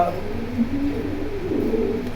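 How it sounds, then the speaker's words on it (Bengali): A Huma pigeon at a bird market gives low, soft cooing, heard close beside a nearby voice and market chatter. "এই যে একটা হুমা কবুতর আছে"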